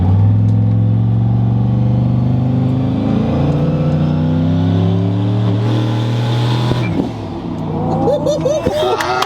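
A truck engine runs loud and close, holding a steady, throaty drone that wavers briefly before shifting near the end.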